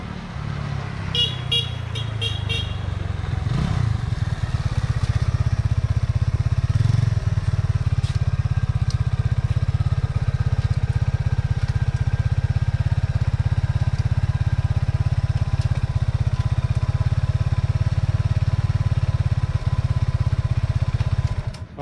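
A Benelli TNT25 motorcycle engine idles close by with a steady, loud, low droning hum that holds evenly throughout, with a few brief higher-pitched tones near the start.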